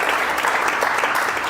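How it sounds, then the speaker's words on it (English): An audience applauds in welcome of a guest at a university talk: dense, even clapping from a sizeable crowd that holds steady throughout. "Please join me in giving her a big round of applause to welcome her."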